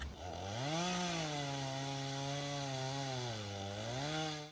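Steady electric chainsaw running at a sustained whine while clearing small trees on a homestead, the pitch dipping and rising slightly as it bites into the wood, loud and close with no talking.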